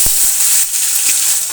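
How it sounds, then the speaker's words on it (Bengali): Chopped tomatoes hit hot spiced oil with a steady, loud sizzling hiss that fills the whole moment, a brief thump at the start as they drop in. "আগে দিয়ে দেবো কেটে রাখা টমেটোগুলো"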